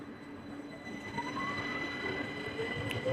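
A train in motion with its window open gives a steady rumbling roar and faint wheel squeal, moderately quiet and continuous.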